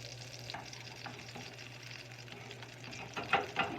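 A Beyond Burger patty frying in a pan gives a steady, low-level sizzle and crackle, with a few sharper spits and pops near the end and no talking.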